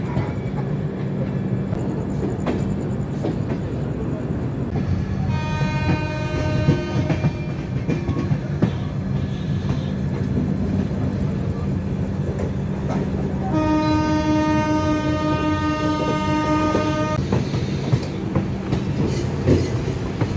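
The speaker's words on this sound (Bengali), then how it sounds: "এখন 1:45 রাত্রির এখন ট্রেন ঢুকাচ্ছে হাওড়া" The Sainagar Shirdi-Howrah SF Express rolls into Howrah station late at night. Its steady, close rumble and wheel clatter run throughout, and two long horn blasts ring out partway through and again near the end.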